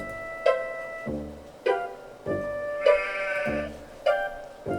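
A sheep in the video game Harvester bleats in a series of about seven short, evenly spaced calls, clear and close with no talk.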